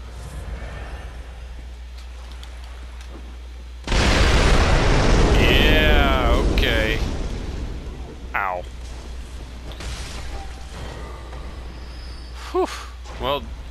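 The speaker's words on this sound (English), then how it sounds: "Well, I think those were explosive. And I hear boulders. crashing somewhere." Heavy explosions and crashing boulders thunder in a dungeon-crawler video game, a loud sustained blast with rumbling debris that fades into lighter clatter and scattered game effects.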